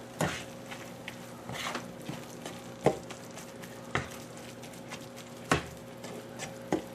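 Aged sharp cheddar is stirred into bacon and spinach in a hot pan, giving soft sizzling with scattered scrapes and taps of the utensil against the pan, quiet and close.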